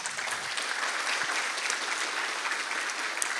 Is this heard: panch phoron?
no